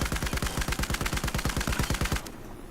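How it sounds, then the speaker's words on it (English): A PKP Pecheneg machine gun in Battlefield 4 fires one sustained, loud, rapid burst of evenly spaced shots lasting about two seconds, then cuts off into a brief fading tail. "Just dumb firing here, I won't compensate for the recoil at all"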